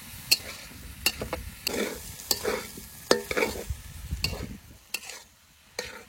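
Oil from silver carp fish frying in a pan before brinjal goes in, a low crackling sizzle with sharp, irregular stirring clicks and scrapes up close, no voices.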